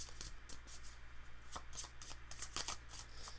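An unsleeved Magic: The Gathering deck being riffle shuffled, a quick series of soft papery flutters and snaps repeating in close bursts over a low background hum.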